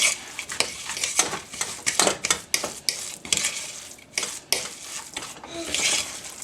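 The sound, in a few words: stirring melted butter around in a pan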